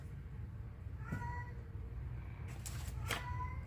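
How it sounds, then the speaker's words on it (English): A cat meows a couple of times at moderate distance, short plaintive calls over a quiet low hum, with a brief rustle between them. "I don't know if you can hear my kitty."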